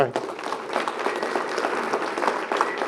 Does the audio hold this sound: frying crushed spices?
no